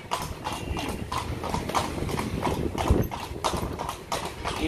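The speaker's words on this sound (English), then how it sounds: "Telling the horse to go slow, now speed up a little bit, so we can go up the hill." Horse hooves clip-clop steadily on a street as a horse pulls a tourist carriage through Granada, Nicaragua, a close, even rhythm of hoof strikes with faint background noise and no talk.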